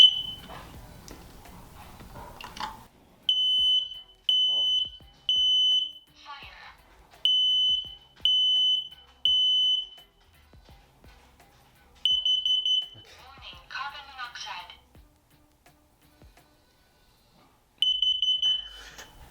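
Household smoke alarms being tested, shrieking in short repeated high-pitched beeps, loud and close, with several bursts and pauses; people talk and move about in between.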